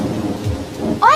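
Rain falling steadily as a sound effect, with a brief thunder rumble underneath and a bright rising tone near the end.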